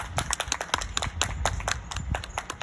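An audience at a graduation ceremony claps briskly, many hands making quick, irregular close-up claps in a continuous patter.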